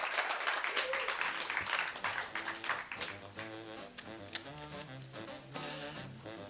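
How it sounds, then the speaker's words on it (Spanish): An audience applauding to welcome a guest speaker at a talk, fading quickly beneath music that carries on after the clapping dies away. "Dale un fuerte aplauso a Paloma del Castillo de Crece tu Coco"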